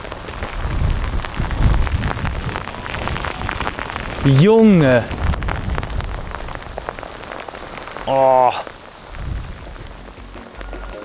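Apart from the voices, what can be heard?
rain falling outdoors during fishing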